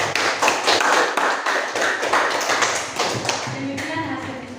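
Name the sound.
audience clapping for group 2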